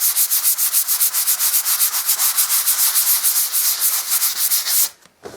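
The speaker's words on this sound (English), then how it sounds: "I've got a sponge pad. Don't need anything too coarse for that, and I'm just going to give it a light sand over." Light hand sanding of dried filler on a wall with a sponge sanding pad, a close, steady rhythmic scratching of quick back-and-forth strokes that stops abruptly near the end.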